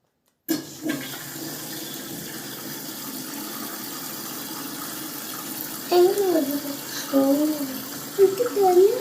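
An LG front-load washing machine fills with water: a steady rushing, gurgling flow starts abruptly and runs throughout, with a person talking over it in the second half.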